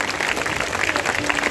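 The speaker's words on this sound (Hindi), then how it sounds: "एक बार तालियां बजाइए" Audience clapping at a Hindu religious discourse on the Bhagwat Katha, a brief, dense burst of applause that fills the room evenly from start to finish.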